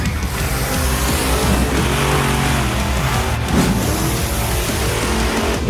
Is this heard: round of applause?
no